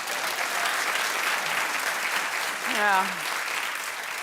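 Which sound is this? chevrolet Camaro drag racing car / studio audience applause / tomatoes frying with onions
studio audience applause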